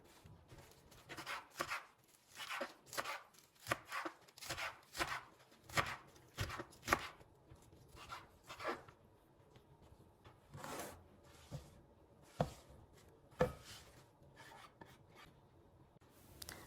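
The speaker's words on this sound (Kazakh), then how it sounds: "Енді жақсылап жуып тазаланған салат жапырағында осылай майдалап турап," A knife finely chopping washed lettuce leaves makes a quiet, close series of soft, crisp cuts in an uneven rhythm, with short pauses between bursts.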